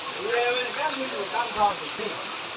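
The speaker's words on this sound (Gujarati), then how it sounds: "અત્યારે વરસાદ ફૂલ આવે છે" Steady rain pours down, a constant wash of noise with a few muffled voices underneath.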